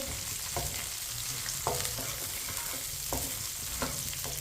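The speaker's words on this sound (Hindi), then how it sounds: "इसे ऐसे ही चम्मच चलाते हुए ब्राउन करें।" Fox nuts (makhana) browning in hot ghee give a steady close sizzle, with a spoon scraping and clattering against the pan every second or so.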